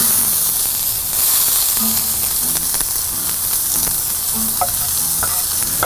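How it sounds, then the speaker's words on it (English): Onions dropped into oil on a hot Blackstone griddle, a loud, constant sizzle and hiss with occasional scraping and stirring clicks close up. "We're gonna throw down a little more oil. All right, we're gonna drop these onions on it."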